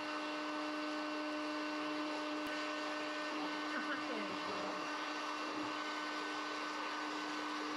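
A popcorn machine runs with a steady, loud motor whine like an old vacuum cleaner, droning without a break, with faint voices talking underneath.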